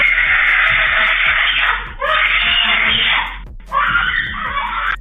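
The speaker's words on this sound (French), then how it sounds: "Une fillette hurle face à un serpent rampant." A young girl screams at a crawling snake, loud and close, in long shrill bursts separated by short breaks for breath.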